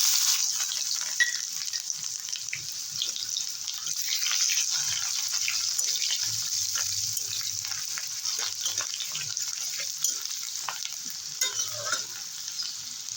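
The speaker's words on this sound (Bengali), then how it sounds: "পেঁয়াজটা লাল লাল করে ভেজে নিলাম" Chopped onions frying in oil, a bright continuous sizzle held steady throughout, with soft intermittent stirring clicks and faint low thumps beneath.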